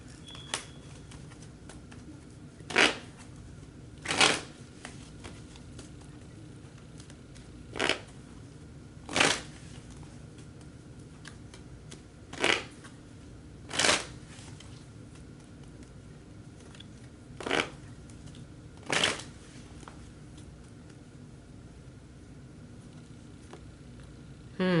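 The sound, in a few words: shuffling tarot cards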